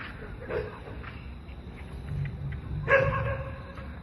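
A dog barks a few times, with short sharp calls rising over low rumbling background noise, the loudest bark coming near the end.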